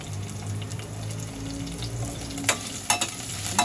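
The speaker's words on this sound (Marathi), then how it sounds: "छान मिरची कढीपत्ता वगैरे छान परतून घेऊया" Green chilies and curry leaves sauté in a pan with a steady hiss and crackle, broken by a few sharp stirring clatters toward the end, with no talking.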